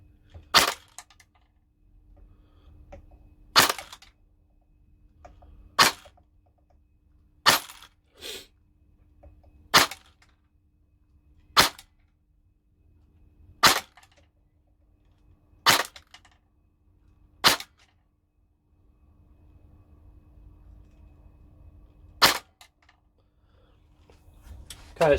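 A Nuprol Pioneer Defender airsoft AEG M4, rebuilt with a Prowin hop-up, fires about a dozen single shots through a chronograph. Each is a sharp, crisp snap, spaced a second or more apart and irregularly timed, with quiet between them.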